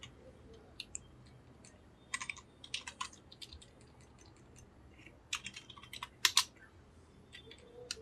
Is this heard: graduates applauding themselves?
no